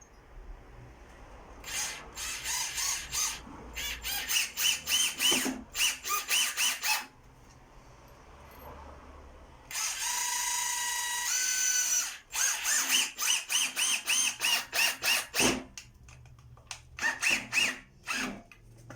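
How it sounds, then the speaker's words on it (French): An AEG BBH18C cordless rotary hammer drives 50 mm screws in repeated short bursts of whirring, each run a few seconds long with brief pauses, then a longer sustained run and more quick pulses, close and clear with no talk. "Petit essai de vissage, donc avec des vis de 50 mm."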